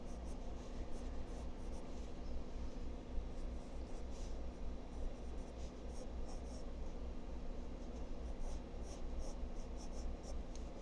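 Pencil strokes drawing a figure on paper make a steady, quiet scratching and rubbing that runs throughout over a low hum of room noise.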